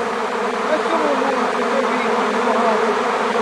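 A honey bee swarm buzzes close by, a dense, continuous hum of many wings that holds steady throughout.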